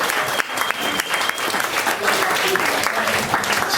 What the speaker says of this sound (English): Please give a warm round of applause to Scotty Davis.